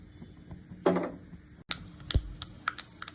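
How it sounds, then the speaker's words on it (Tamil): Mustard seeds spluttering in hot ghee make sharp irregular pops and crackles, a burst of sizzling followed by scattered spitting snaps, close and moderately loud with no talking. "கடுகு வெடிச்சிருத்து"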